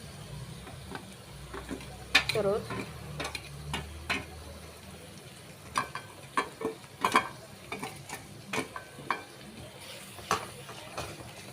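Spices frying in oil in a pan for an egg curry, a soft sizzle under repeated sharp scrapes and taps of a spoon stirring against the pan, close and uneven in rhythm, with no talk.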